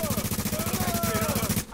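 Rapid gunfire from The Division online co-op, a fast rhythmic burst of loud repeated shots lasting over a second before cutting off abruptly; a grenade blast is not clearly distinguishable.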